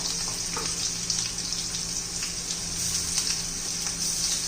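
Coriander and green chillies sautéing in a pan for a fenugreek-tomato chutney, giving a steady close sizzle with light scraping and stirring throughout, no talking.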